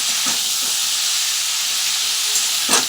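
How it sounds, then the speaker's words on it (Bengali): Continuous hissing sizzle of cauliflower with salt and turmeric frying in oil in a wok, close and fairly loud, with a couple of faint knocks and a brief clatter near the end. "দিয়ে আমি এখন কপিটা ভাজবো"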